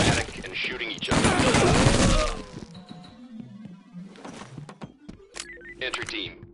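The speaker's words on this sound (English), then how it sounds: "the suspects are erratic and shooting each other" Gunfire from suspects shooting each other in SWAT 4: a dense, loud burst of rapid shots for about two seconds, followed by scattered sharp cracks and thuds, with radio voices speaking over the game sounds.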